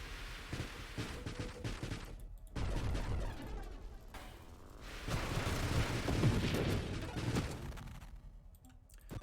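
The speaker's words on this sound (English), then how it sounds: "now you can see teleporting missiles that just fire out and destroy everything" Missiles fire and explode in the space shooter game Nova Drift as a dense, continuous barrage of rapid blasts and booms that swells and dips, with no talk over it.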